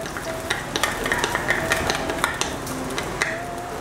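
Mongolian pork stir fry with soy and oyster sauce cooking in a pan: a steady sizzle and bubble, with a spatula scraping and clinking against the pan at irregular intervals.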